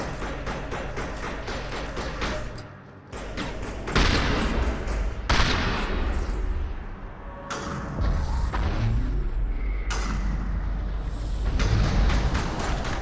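Rifle gunfire in the video game Mass Effect Legendary Edition, a loud stretch of shots with sharp bursts and thuds over continuous combat noise, plus brief quieter pauses.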